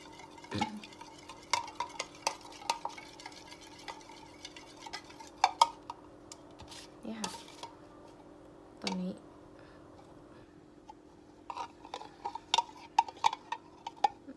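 Homemade hand sanitizer gel being stirred in a container, scattered light clicks and taps of a utensil against the sides over a faint steady hum, quiet and intermittent.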